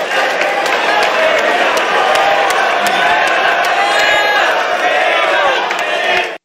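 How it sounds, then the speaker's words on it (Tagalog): Loud, dense crowd roar and cheering at a FlipTop rap battle, sustained whoops and shouts from a packed audience filling the whole stretch before cutting off abruptly. "Imagine nyo, crowd reaction"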